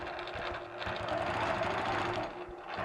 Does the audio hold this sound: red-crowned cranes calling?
no